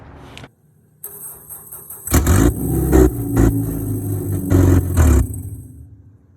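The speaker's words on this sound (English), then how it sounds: "I parked the car, I started up the car again" A Honda S2000 engine cranks and catches, then idles and revs in several loud bursts, with a brief quiet pause before it starts.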